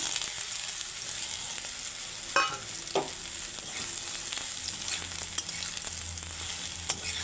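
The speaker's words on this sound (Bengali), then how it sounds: "এবারে আমি এইগুলোকে তেলে ভেজে নেব।" Soybean chunks fry in oil in a wok, giving a steady, moderately quiet sizzle with a few scattered clacks of a utensil against the pan.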